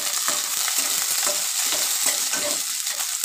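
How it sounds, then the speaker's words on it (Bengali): Chopped onions dropped into hot oil for a bottle gourd fish curry crackle and hiss loudly up close, a busy sizzle dotted with quick stirring scrapes and no talking. "এবার তেল দিয়ে দিলাম, গরম হয়েছে, কুচি করা পেঁয়াজগুলো দিয়ে দিলাম।"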